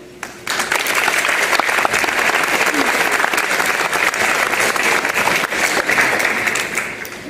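A student council election audience breaks into a loud, dense round of applause that starts abruptly and holds steady throughout, with scattered crowd noise beneath the clapping.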